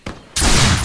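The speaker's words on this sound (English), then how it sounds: "I love the noise of the guns when you're further away from them. It's like make a popping noise." Distant gunfire in the Caribbean! video game, a soft pop followed by a dense, continuous noisy burst of far-off shots, with no talking.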